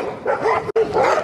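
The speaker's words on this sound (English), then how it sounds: "Can you hear all the dogs barking?" Several dogs bark and yap together at a distance, a continuous overlapping chorus broken by one brief gap.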